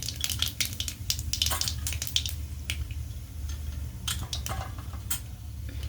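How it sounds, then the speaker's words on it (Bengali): Black cumin and other whole spices crackle in hot oil for a tempering, with steady loud frying sizzle and rapid popping spits throughout, close up and without talk. "তেল গরমও হয়ে গেছে এবং এর মধ্যে কিন্তু এই ফোড়ন দিয়ে দিলাম"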